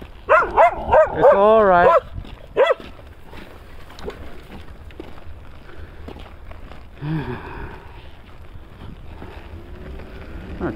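Dog barking several times in a loud, close burst at the start, then quieter outdoor ambience with wind on a winter trail ride in a park day-use area, and a person speaking briefly.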